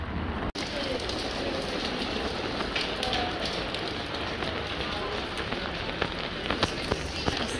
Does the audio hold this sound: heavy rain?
yes